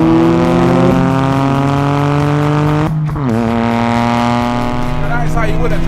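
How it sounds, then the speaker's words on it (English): Toyota GR Corolla accelerating hard in a drag race, its engine note climbing steadily and loud, then a quick dip at a gear change before rising again, with voices faintly underneath. "Now that is how you win a drag race."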